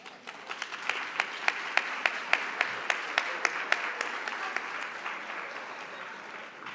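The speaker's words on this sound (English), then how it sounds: "Please join me in one more round of applause to congratulate all of our retiring employees." Applause at a 2024 retirement banquet honoring retiring school-division employees, a roomful of clapping with a sharp, regular clap standing out near the front, rising then slowly thinning out.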